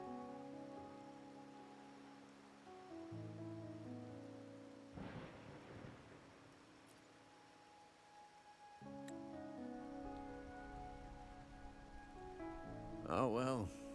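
Rain falling in the video game Wuthering Waves, a steady patter with rumbles of thunder beneath layered game music and ambient tones, with a brief chiming effect near the end.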